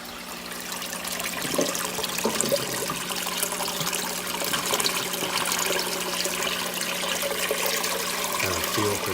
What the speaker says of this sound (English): see the water starts flowing